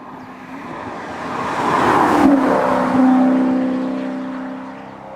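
A Maserati Quattroporte's Ferrari-built 4.7-litre naturally aspirated V8, rated at 440 horsepower and paired with a ZF six-speed gearbox, revs up loudly to a peak. Its tone then holds and slowly fades, with no voices.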